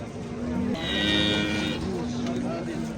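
A bull or cow at a busy livestock market lows once, loud and close, over a constant murmur of crowd noise and a second steady animal tone.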